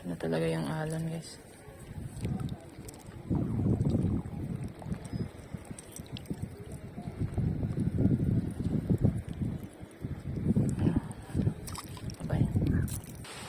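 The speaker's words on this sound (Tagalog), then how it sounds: "Ito na talaga yung alon guys." Waves slosh and surge against a boat in repeated rough swells while ultralight fishing at sea in the Philippines, with strong wind buffeting the microphone and a voice talking over it.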